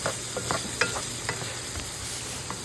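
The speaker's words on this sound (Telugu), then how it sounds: "మనం తరిగి ఉంచుకున్న బెంగళూరు వంకాయ ముక్కల్ని వేసి వేయించాలి." Chayote pieces frying in a wide pan, a steady close sizzle with intermittent light scrapes and taps as the pieces are stirred, no voices.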